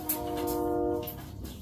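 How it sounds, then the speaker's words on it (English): A train horn honking at a distance, a steady sustained chord with faint repeated bursts over it, heard low and far off outdoors. "train's honking"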